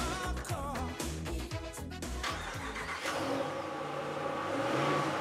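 A 2018 Ram pickup truck's engine runs inside a dealership showroom, revving and surging through several bursts before settling into a steady hum.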